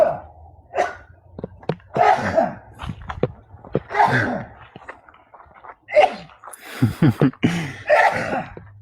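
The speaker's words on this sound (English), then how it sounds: "This is common for Dad to get a sneezing fit." A man has a sneezing fit outdoors in a desert cactus garden, with a rapid run of loud, close sneezes, coughs and sharp breaths repeating over several seconds.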